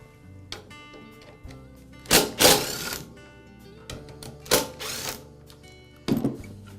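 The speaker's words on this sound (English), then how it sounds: "I'll begin by removing the motor end cap. It's held in place with a couple of screws." Screws come out of the motor end cap of a DeWALT chop saw, giving a series of close mechanical clicks and ratcheting screwdriver bursts, with several louder rattling clatters in between.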